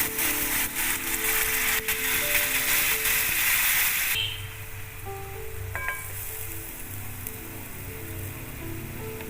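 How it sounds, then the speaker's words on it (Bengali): Hot water poured into the oil of a potato and brinjal mutton-style curry gives a loud, dense sizzle for about four seconds, then settles into a quieter bubbling simmer with faint clinks. "তেলটা ভেসে উঠেছে, এর মধ্যে আমি একটু গরম জল দিয়ে দিলাম।"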